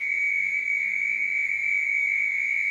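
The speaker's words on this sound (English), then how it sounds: "A much smaller toad, the oak toad, Bufo quercicus, has a totally different voice consisting of a short." Oak toad (Bufo quercicus) calling at Little Rock, Arkansas: a steady, high, piercing whistle-like trill held without a break, loud and close, alone with no voices.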